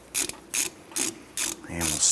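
A hand ratchet snugs down a brake caliper bolt on a 2008–2012 Honda Accord in four or five short, crisp clicking bursts close by, ending in a faster run of clicks; no one speaks.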